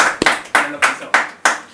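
Five or six sharp, separate claps ring out at a freestyle rap battle show, slow and evenly spaced, each a distinct crack that decays quickly, with speech faint beneath them.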